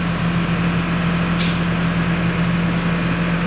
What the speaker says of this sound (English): raise them forks up and get out of here